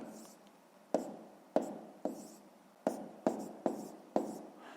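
Handwriting a math solution: a pen or marker scratches across the surface in short strokes, each starting with a sharp tap, about seven or eight strokes in a close, quiet room.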